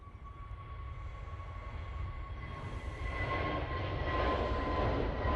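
An Airbus A320neo takes off early in the morning at Manchester Airport, its broad engine roar building steadily and growing louder over several seconds, alone with no voices.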